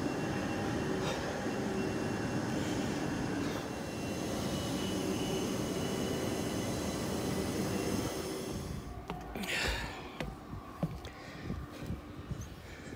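Steady rumbling roar of a London train in motion heading to Wimbledon, loud and continuous, giving way near the end to irregular clunks and rattles.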